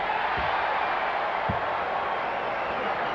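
Basketball arena crowd in Arizona at a Suns home game, a steady broadband murmur that fills the whole stretch, with a couple of brief low thumps near the start.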